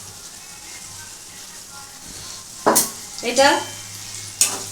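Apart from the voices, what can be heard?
stirring cashews frying in a pan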